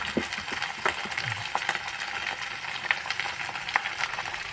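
Beans, carrots and peas frying in a pan, a steady soft sizzle with occasional clicks and scrapes of stirring, close and moderately quiet, with no one talking.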